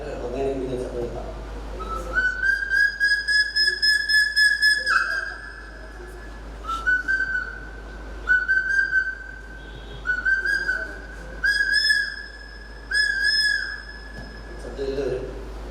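Bird calls imitated by human whistling at a talent show on stage, a series of loud, clear whistled phrases of rising trills and sustained notes with short pauses between, close and prominent with room reverberation.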